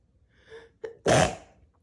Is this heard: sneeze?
yes